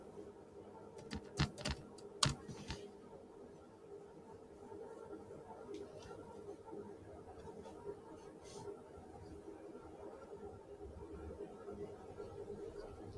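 A command is typed on a computer keyboard: a quick cluster of sharp key clicks early on, then sparse faint taps over a quiet background hum.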